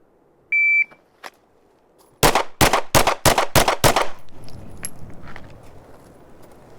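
Glock 43 pistol fired at a target: seven sharp, loud shots in a quick, even string, preceded by a short electronic timer beep, with faint rustling afterward.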